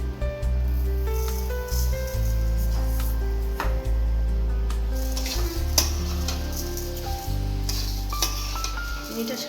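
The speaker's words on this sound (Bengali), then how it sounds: "এই পর্যায়ে আমি চিনিটা মিশিয়ে দেবো।" Carrot halwa cooks with sugar being stirred in, giving a steady close sizzle and frying hiss with scraping stir strokes throughout, no voices.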